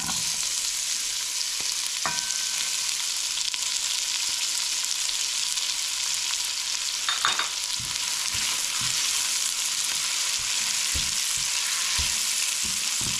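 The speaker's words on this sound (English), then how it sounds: "So once the cumin starts to turn brown, we are going to add in, saute our onions." Onions sauté in hot oil with browned cumin, giving a loud, dense, continuous sizzle close by, with a few scraping stirs toward the end.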